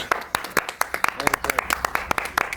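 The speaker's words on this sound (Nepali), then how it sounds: "ताली।" Several people clapping in a Nepali comedy sketch set at a police selection, quick uneven claps close by, mixed with talking voices.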